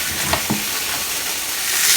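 Fresh pork and beef sausage browning in a pan for Cajun steak in gravy, a steady close sizzle and hiss with a couple of soft stirring scrapes, no voices.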